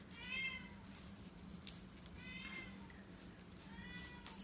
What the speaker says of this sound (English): So, can y'all hear that cat crying?